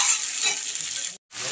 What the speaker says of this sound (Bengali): পেঁয়াজটা অর্ধেক ভাজা হয়েছে। এই যে টমেটো আর এই 4টে লঙ্কা চিড়ে দিয়ে দিলাম।